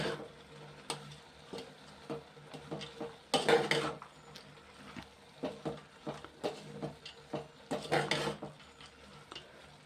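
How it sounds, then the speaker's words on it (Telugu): A lid set onto a cooking pot on a kitchen stove over a low flame, giving a few close metallic clinks and scrapes among scattered utensil knocks. "ఇప్పుడు మూత పెడతాను."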